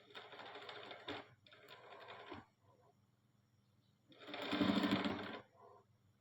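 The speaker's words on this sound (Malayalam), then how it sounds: "ഫുള്ളായിട്ട് ഇങ്ങനെ സ്റ്റിച്ച് ചെയ്തെടുക്കാം." A sewing machine stitching fabric runs in three separate bursts of fast, steady mechanical whirring, close and clear, with brief pauses between runs and the last burst the loudest, no talking.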